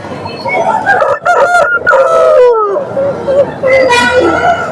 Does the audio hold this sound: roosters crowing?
yes